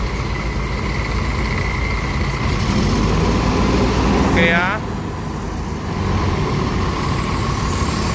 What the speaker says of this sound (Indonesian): bus melanjutkan perjalanan